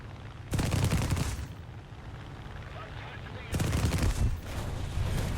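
A Spitfire Mk II's cannons in a flight combat game fire two loud, rapid bursts, each lasting about a second, separated by a few seconds of engine drone.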